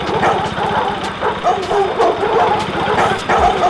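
Dogs bark and yip repeatedly at close range, a steady cluster of overlapping barks with some whimpering, continuing through the whole stretch.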